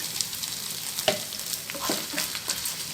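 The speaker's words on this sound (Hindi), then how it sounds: "इसको गोल्डन ब्राउन होने तक फ्राई करेंगे।" Mash dal frying in a pan until golden brown, a close, continuous crackling sizzle with a few scraping stir strokes across the pan.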